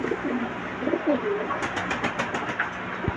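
Racing pigeons of Koopman bloodline coo softly in the first half, then a quick run of sharp clicking taps follows, fairly close with no speech.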